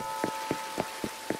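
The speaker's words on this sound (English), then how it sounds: "It's raining" Rain falling in Animal Crossing: New Horizons, heard as five soft, evenly spaced droplet taps over a steady faint hiss of game rain, with no talking.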